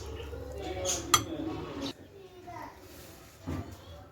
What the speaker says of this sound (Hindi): मैं इसको मिक्स करती हूँ अच्छे से।